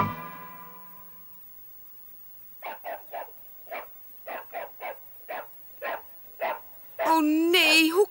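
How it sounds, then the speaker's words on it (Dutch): A dog barks in a rapid, evenly spaced series of sharp, fairly close barks after a voice speaks, ending in a louder whining yelp. "nou hoef je niet meer te blaffen"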